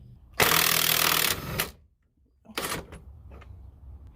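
A wrench works loose a 24mm nut and bolt on the rear shock mount of a C5 Corvette, giving a loud sustained grinding rattle followed by a shorter burst and a few faint clicks.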